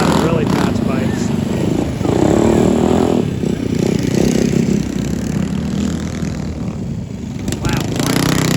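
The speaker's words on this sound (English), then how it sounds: "A lot of really fast bikes." Mini bikes race in a three-hour enduro, a continuous loud buzz of small engines revving and droning nearby, overlapping one another, with a person talking over the noise.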